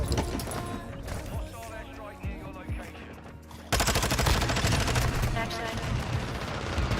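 Video game gunfire rattles in rapid automatic bursts, first sparser and then a dense, louder barrage, with a voice talking over the shooting.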